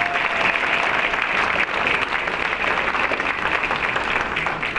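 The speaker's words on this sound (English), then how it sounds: "If you would give them a round of applause." An anniversary celebration crowd gives a sustained round of applause for the school principal, a loud, even roar of clapping from many people filling the room throughout.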